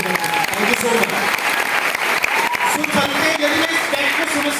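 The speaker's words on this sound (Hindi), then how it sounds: "अरे अपने लिए एक जोरदार तालियां बजा लो।" Audience applause fills a seminar hall after a motivational business talk, a dense, steady clatter of many hands clapping loudly throughout, with voices faintly mixed in beneath.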